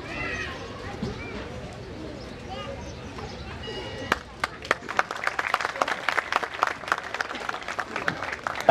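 Audience applause at a 2016 murti pratistha ceremony in Haripura, starting as a scattered murmur of voices and clapping and then breaking into louder, sharper claps that continue for several seconds.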